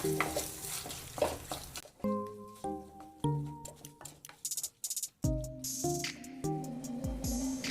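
Tomatoes with salt sizzle steadily in a hot pan, with stirring scrapes and clinks up close.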